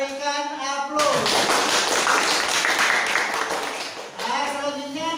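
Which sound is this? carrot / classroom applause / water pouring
classroom applause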